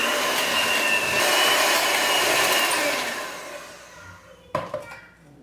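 An electric hand mixer whirs steadily as it beats butter with powdered sugar, running loud for about three seconds, then winding down before a couple of sharp knocks from the bowl near the end.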